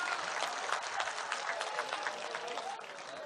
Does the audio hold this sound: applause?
yes